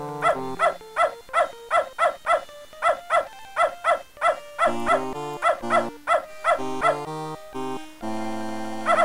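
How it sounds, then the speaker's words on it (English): Dog barking in the PC game Beneath a Steel Sky, a steady run of loud, evenly spaced barks repeating throughout with a game music bed underneath and no talk. "That dog is in my way. And I bet his bite is worse than his bark."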